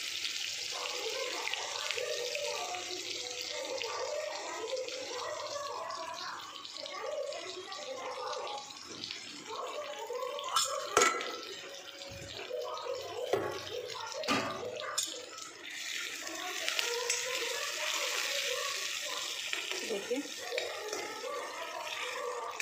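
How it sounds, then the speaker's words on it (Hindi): Onions sizzling in hot refined oil for a pasta dish, a steady crackling hiss throughout with a few louder clatters of utensils midway. "रिफाइंड गर्म हो गया है, अब हम इसमें सबसे पहले प्याज ऐड करेंगे।"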